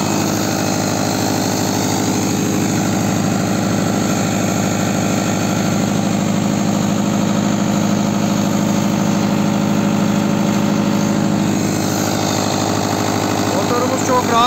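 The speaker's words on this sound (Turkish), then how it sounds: "Motorumuz çok rahat çalışıyor gördüğünüz gibi." An Iveco 4-cylinder, 120 hp turbocharged diesel engine drives an 86 kVA generator, idling smoothly and steadily at close range with a constant hum and no breaks, throughout the full length.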